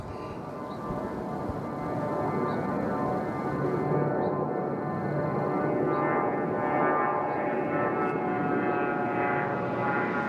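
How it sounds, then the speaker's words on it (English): A small plane at Nashville International Airport gives a steady, droning engine roar with a low tonal hum that swells slightly and holds, heard from a distance with no talk. "We got a little small plane going to St."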